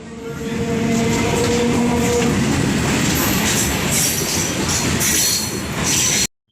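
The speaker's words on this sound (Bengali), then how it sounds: "তো চলো ট্রেনে ওঠা যাক" A local train in West Bengal, heard from inside the carriage: a loud, steady rumble of wheels on rails with metallic squeals and rattling, running continuously before cutting off abruptly.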